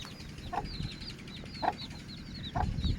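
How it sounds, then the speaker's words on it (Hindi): Aseel hen and newly hatched chicks cluck softly in short bursts amid a busy farmyard, with high chirping calls scattered throughout and low rustling and scuffling close by. "असीलों के बच्चे निकल आए हैं। मुर्गी बिठाई थी अंडों पर।"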